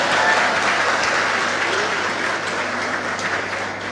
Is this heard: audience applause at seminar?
yes